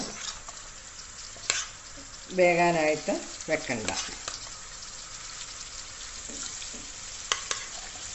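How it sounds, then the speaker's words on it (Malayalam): Chicken frying in hot coconut oil for a chicken roast, a steady close sizzle with stirring scrapes and clatter, while someone speaks briefly over it. "വെളിച്ചെണ്ണയിൽ വേണം ഈ ചിക്കൻ റോസ്റ്റ് വറുത്തെടുക്കാനായിട്ട്"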